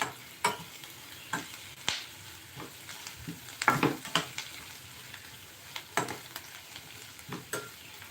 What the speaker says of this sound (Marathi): हळद टाकल्यानंतर ही सुद्धा आपल्याला छानपैकी मिक्स करून घ्यायची आहे